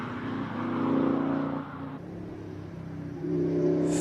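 Ferrari 348 Challenge race car at a classic-car hillclimb in Cape Town, engine droning loudly as it passes, then fading before climbing again.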